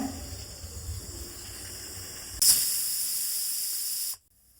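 A pressure cooker whistle bursts out abruptly in a loud, steady high-pitched hiss, holds for a couple of seconds, then cuts off, following quieter kitchen background.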